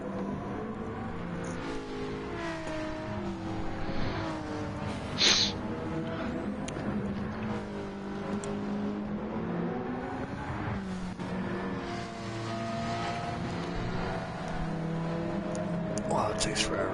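A race car in a racing video game drives toward the pit lane, its engine a steady, fairly close drone with shifting pitch, heard under someone talking throughout.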